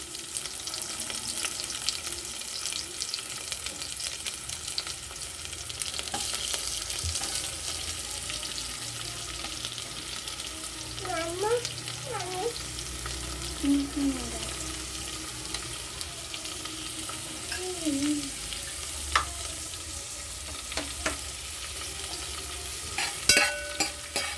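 Onions fry in a pan for tomato rice and are stirred now and then, giving a long, even sizzle with occasional scraping and clinks and a few faint tonal sounds in the background.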